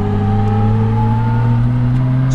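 A 1966 Jaguar engine running steadily on a test drive, a loud, smooth, even drone from inside the car with no speech.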